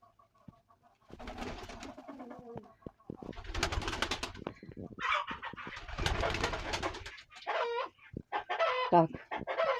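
Chickens cluck and squawk in agitated bursts close by, with flapping commotion between calls and brief quiet gaps.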